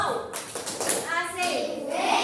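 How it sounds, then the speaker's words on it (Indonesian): Schoolchildren in a fourth-grade classroom do a rhythmic clapping cheer, quick hand claps mixed with bright young voices calling out together, close and lively for a couple of seconds. "Kita kasih tepuk wow."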